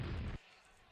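A rocket explosion from a rocket jump in Quake: a short, loud, full-bodied blast that cuts off abruptly and leaves quiet behind.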